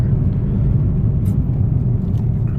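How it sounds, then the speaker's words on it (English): Low, heavy drone of a Mini R56 with the 1.6 N12 engine at full throttle in third gear, pulling sluggishly, a steady muffled rumble heard from inside the car. "Look, third gear, full throttle, going very sluggish."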